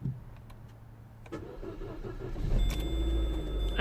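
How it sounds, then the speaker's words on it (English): A Vauxhall Opel Corsa D with the Z14XEP petrol engine is cranked with a starter whir, then catches and rises to a louder running engine near the microphone, with no talk. "Gonna try to start the engine."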